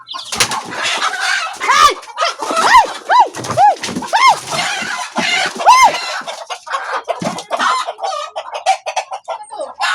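Chickens cluck repeatedly nearby, a busy flurry of close, loud clucks and squawks with some wing flapping.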